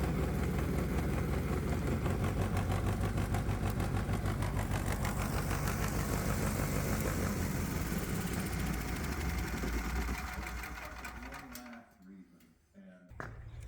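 A small engine on a test stand, driving an alternator, idles with a loud, continuous rough chugging, then is shut off near the end and sputters to a stop, leaving faint clunks and handling noise.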